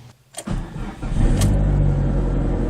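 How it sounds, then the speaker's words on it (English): A car engine cranks briefly, catches, and settles into a loud, rough idle, heard up close with no voices. "give it a nice cold start because it's been sitting here for quite some time now"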